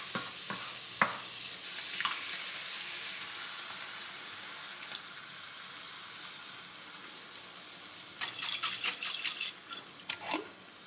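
Pre-cooked food browning in a pan with sauce set to simmer: a faint, steady sizzle with occasional scraping stirs and light clinks, close by and quiet, without talking.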